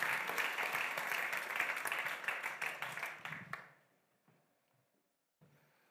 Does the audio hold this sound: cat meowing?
no